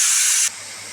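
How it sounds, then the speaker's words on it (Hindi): Steam from a pressure cooker whistle, propped open with a spoon after cooking yam, gives a loud, steady hiss that cuts off abruptly halfway through and leaves only a faint hum. "देखिए कितनी भाप निकल रही।"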